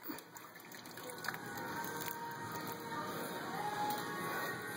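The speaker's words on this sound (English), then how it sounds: "Splashing some water near him." Water splashes and gushes steadily near a dog during a water balloon game outdoors, a continuous wet rushing sound that stays fairly loud throughout.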